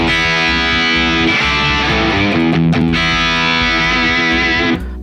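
Electric guitar played through a Marshall SV20H tube amplifier, loud and saturated with sustained chords and riffing that cuts off abruptly near the end, no talking.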